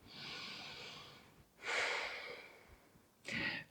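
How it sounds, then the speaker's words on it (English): A person exhaling during a yoga session, soft breathy exhalations heard close and quiet, one long breath followed by two shorter bursts of air, with no talking. "Exhale."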